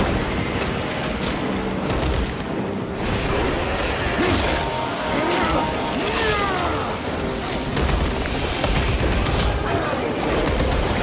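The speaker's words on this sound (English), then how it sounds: "deploying crack grenade" A crack grenade goes off in the video game Warhammer 40K Space Marine 2 amid a dense, loud battle din of gunfire, crashes and mechanical clatter that continues without a break.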